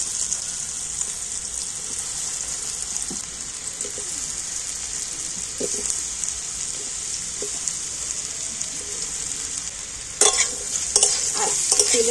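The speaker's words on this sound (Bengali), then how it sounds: "আর তেলের সাথে আলু আর কচুটা কিন্তু একটু ভালো করে ভেজে নেব।" Spiced potato and taro chunks fry in hot oil with a steady, bright sizzle throughout, occasional soft stirring knocks, and a burst of louder crackling scrapes near the end.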